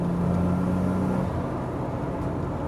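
A 1993 Nissan 300ZX twin turbo engine under acceleration, a steady dense rumble from inside the car with a droning tone that fades out partway through, continuous and fairly loud.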